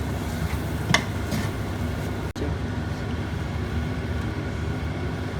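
Boiled potato being mixed with a masala mixture for egg cutlets, giving a steady soft stirring and mashing texture close by, with one sharp click partway through and no talk.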